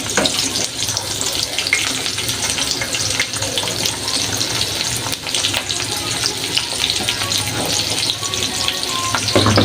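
Sliced bitter gourd (karela) fries in a pan for a home fish-and-vegetable meal, giving a continuous loud sizzle and crackle with some watery splashing and clatter, no talking.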